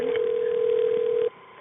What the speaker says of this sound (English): let me connect you with the ambulance service